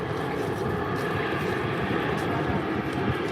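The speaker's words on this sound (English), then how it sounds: "Wow, look at that. That is a monster of a plane." A large airplane passes overhead, its steady, loud engine roar rumbling broadly through the whole clip without letting up.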